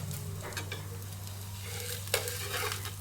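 Ghee sizzles on a ragi masala rotti cooking in a pan, giving a steady frying hiss with a low hum underneath, broken by faint scraping stirs and one sharper crackle.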